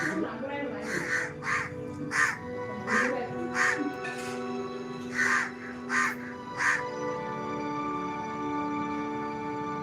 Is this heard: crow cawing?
yes